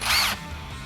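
A power driver fitted with a 10mm socket gives one short, loud whirring burst as it tightens a bolt on a running board bracket of a 2005-2020 Toyota Tacoma Double Cab, then cuts off.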